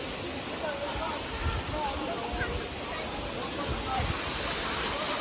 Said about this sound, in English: There goes the waterfall.